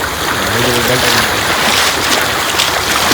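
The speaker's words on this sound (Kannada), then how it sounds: "ಫುಲ್ ನೀರು ಹರಿತಿತ್ತು" Fast-flowing floodwater rushes after heavy rain in Udupi district, a loud, continuous broadband roar of churning water with wind-like hiss, with a voice briefly audible near the start.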